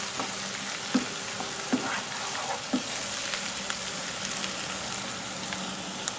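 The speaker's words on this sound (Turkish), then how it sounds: "Soğanla birlikte ince ince böyle kavurabilirsiniz." Soft, steady sizzling of onions and thinly sliced eggplant sautéing in a pan, with a few light clicks of a utensil stirring at intervals.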